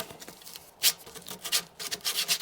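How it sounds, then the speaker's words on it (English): Sandpaper rubs over a 2x4 wooden bird feeder post in short, close, scratchy strokes, several uneven bursts with brief gaps between them. "So sand it up a little bit there."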